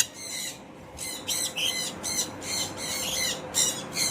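Birds in a farm aviary squawk in a rapid series of harsh, close calls, with short gaps between bursts against a quiet background.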